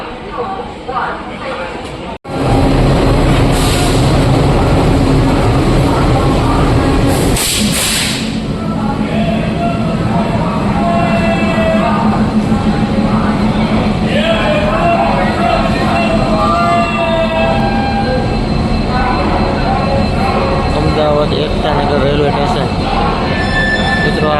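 A double-decker passenger train on the Lathi to Ahmedabad route rumbles steadily with clattering wheels and occasional squeals, loud and close from inside the carriage, after a sharp thump; people talk throughout.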